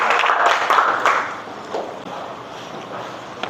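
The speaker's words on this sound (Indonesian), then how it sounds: "Beri tepuk tangan untuk kelompok 4." A classroom group gives applause for student group 4, a steady wash of many hands clapping together, loudest at first and then fading and thinning out.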